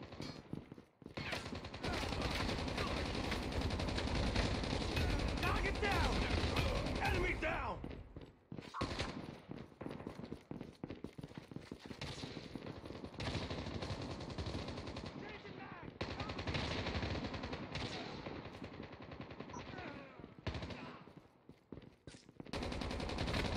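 Rapid automatic gunfire from a Call of Duty match rattles in long, loud bursts separated by short pauses, with a few quieter gaps between volleys.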